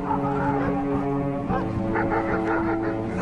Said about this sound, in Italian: ci sono i cani.